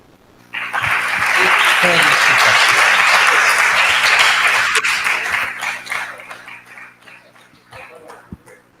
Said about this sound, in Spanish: entonces le da otro aplauso.